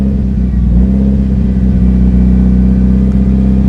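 A tuned Mitsubishi Lancer Evolution IX MR engine with over 200,000 miles runs loud and close, a deep steady lean idle with a few small revs that rise and settle, rumbling continuously throughout.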